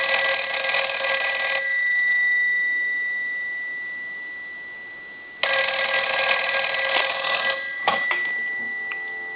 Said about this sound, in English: So let's go ahead and ring it now.